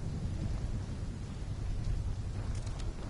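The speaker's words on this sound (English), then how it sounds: "When the full force of the storm hits, we'll be looking at 150 mile per hour winds" A thunderstorm with strong wind in the Black Ops 3 video game, a dense, continuous low rumble with rain-like hiss that stays loud and steady throughout.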